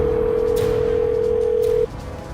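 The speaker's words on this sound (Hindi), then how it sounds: "रिंग जा रही।" A steady, loud electronic phone tone on an outgoing call holds one unbroken pitch for nearly two seconds, then cuts off abruptly into quiet background hiss.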